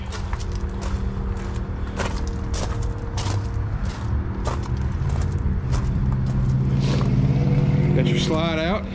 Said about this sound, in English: I'm hooked to my generator in case you're wondering what that background noise is